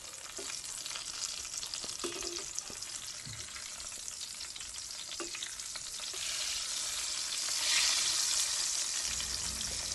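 Tortang talong, an eggplant omelette, sizzles steadily in a hot pan, a continuous bright frying hiss with a few soft utensil scrapes, swelling louder toward the end with no talking.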